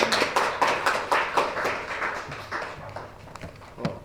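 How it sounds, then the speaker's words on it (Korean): A church congregation claps together during a Sunday morning worship service, a dense run of close, crisp hand claps that thins to scattered claps near the end, with no talk over it. "다시 한번 박수 한번 더 주시면 좋겠습니다."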